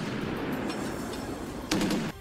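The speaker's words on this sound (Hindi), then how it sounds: "इस ड्रिल के दौरान रूसी टैंकों से इतनी गोलियां दागी गईं कि वो इलाका उनकी आवाज से थर्रा उठा" Russian tanks fire during a military drill. The reports are loud and booming, with one sharp burst near the end over continuous rumbling noise, and no voices.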